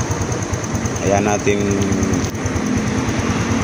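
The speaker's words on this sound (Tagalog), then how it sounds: "painitin siya o warm up yung makina." Honda XRM 125 motorcycle engine idling while warming up, a steady close low putter with rapid rhythmic pulses, with someone speaking briefly over it.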